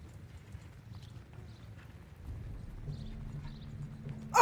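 A steady, low drumming of horse hooves galloping on a battlefield in Mount & Blade II: Bannerlord, growing a little louder and closer over a few seconds.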